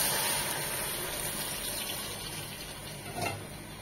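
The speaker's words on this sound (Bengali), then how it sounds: "2 কাপ চালের জন্য আমি 3 কাপ পানি দিচ্ছি" Water being poured into a pot of fried polao rice, a continuous close gushing stream that holds steady and then eases slightly, with a brief splash near the end.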